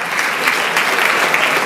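Audience applause fills a presentation hall, a dense steady clapping from a crowd that holds at full loudness throughout with no talk over it.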